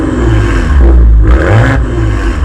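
Close up, the twin-turbo V6 exhaust of a 2023 Maserati Levante Modena revs in a short, loud burst that swells and falls back to idle.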